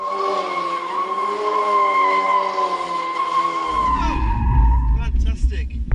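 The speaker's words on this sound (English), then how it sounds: "This manoeuvre is called drifting, oversteering to lose traction and slide the car sideways." A car drifts sideways and its tires squeal in a long, loud, wavering screech lasting several seconds, then give way to a rough rumble and scrabbling noise at the end.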